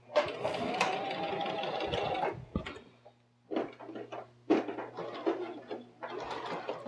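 A sewing machine stitching fabric and back stitching at the seam ends, a steady close whirr that stops and then restarts in short bursts.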